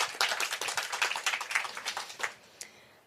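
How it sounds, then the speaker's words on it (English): Audience applause for a guest at a live podcasting event: a dense burst of many hands clapping that holds steady, then thins out and fades to a few scattered claps near the end. "Applause for Juhi!"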